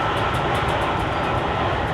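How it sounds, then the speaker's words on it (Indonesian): Swedish SJ X2000 high-speed train on the Malmö to Göteborg line, heard from inside as a steady loud rumble and hum with faint regular clicks as it pulls away from a stop. "Ini kereta posisi lagi berhenti, baru jalan lagi"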